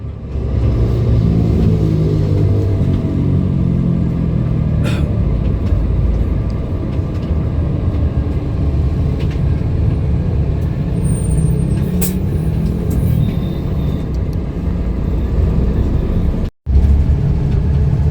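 A Scania coach bus drives along, its engine droning loud and steady with transmission shifts, a brief break near the end, then the drone resumes.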